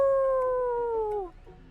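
A cartoon dog character, DJ Dog, lets out one long, loud howl in a cooking-battle video game. The howl slides gradually downward and cuts off after about a second and a half.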